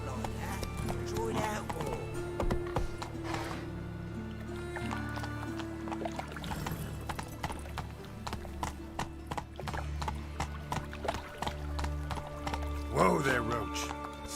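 Roach, a horse in The Witcher 3, clip-clops steadily at a gallop over a continuous game soundscape, with a whinny and watery splashing sounds along the way.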